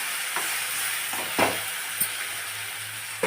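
Egg and tomato curry being stirred in a pan, a low sizzle punctuated by several scraping, knocking stir strokes close by; any pour of water is not clearly distinct.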